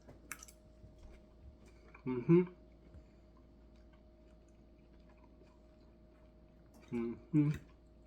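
Someone chews a forkful of lomo saltado with beef, crunchy onion, vegetables and fries, two short close bursts of wet crunching separated by several seconds of near silence.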